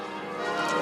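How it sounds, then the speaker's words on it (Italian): Festive church bells ring out over a city basilica as civic and religious dignitaries arrive, a steady dense ringing with a wash of outdoor ambience, fairly loud and continuous with no talk. "Sentite le campane a festa che stanno sottolineando il passaggio"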